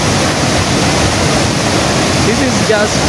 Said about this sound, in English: See the waterfall going that direction